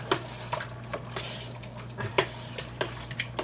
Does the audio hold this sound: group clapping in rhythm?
no